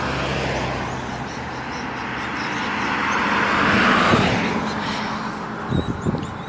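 A car drives along a suburban street on a stormy evening, its tyre and engine noise swelling as it passes near and fading away, with a couple of soft knocks at the end.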